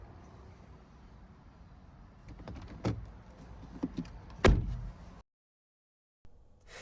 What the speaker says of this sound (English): If we press the door handle twice, they will also pop out.